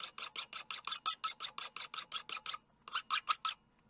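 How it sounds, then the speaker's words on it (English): A metal blade tang being hand filed, with fast, regular rasping strokes in a steady rhythm, one short pause, then a few more strokes, close and clear. "It wouldn't be one of my videos if there wasn't a decade of hand filing"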